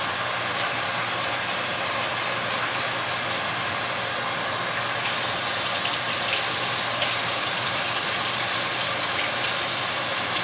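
Tap water runs steadily while rice is rinsed, a continuous close rushing gush that grows slightly louder midway and carries on without pause.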